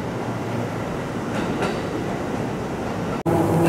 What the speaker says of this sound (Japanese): 普通列車郡山行きの列車出発していきます